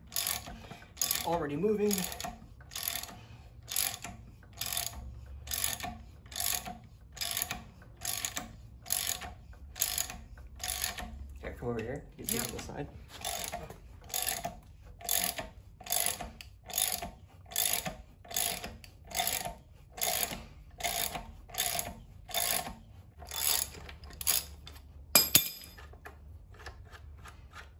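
Ratchet wrench turning a 19 mm bolt on a junkyard LS engine on a stand, a long series of regular close clicking bursts with each cranking stroke, with a brief spoken remark early on.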